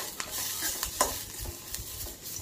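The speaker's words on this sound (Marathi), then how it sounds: "हे भाजलेलेच आहेत शेंगदाणे, गरम होण्यासाठी मी परत एकदा भाजते" Already-roasted peanuts rattle and scrape as they're stirred in a hot pan, with soft sizzling and a few sharper clicks over a steady dry hiss.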